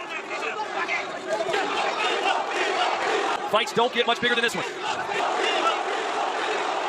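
Boxing crowd at a light heavyweight world championship bout between Beterbiev and Vivol, roaring and shouting in a dense, continuous wall of noise, with a commentator talking over it and a sharper surge of cheers partway through.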